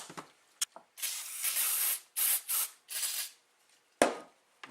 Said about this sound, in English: now we'll blow air through all the little holes, at the risk of polluting ourselves with carb cleaner